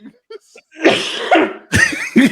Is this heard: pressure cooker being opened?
no